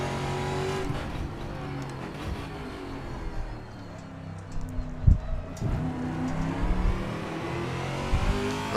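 Dallara IR-18 race car in the Assetto Corsa game droning at high revs on an oval, engine tone shifting and wavering as the car slides sideways, steady and close with a few short bumps.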